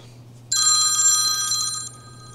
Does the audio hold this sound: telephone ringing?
yes